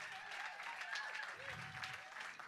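A museum audience applauds a live band, a faint and fairly distant clatter of clapping that holds steady, with a brief voice rising in the middle.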